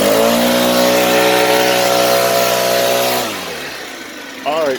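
Stihl backpack leaf blower engine runs loud and steady at high revs with strong harmonic drone, then drops toward idle after about three seconds, with a brief voice near the end.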